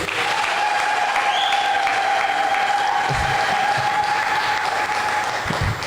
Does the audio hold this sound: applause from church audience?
yes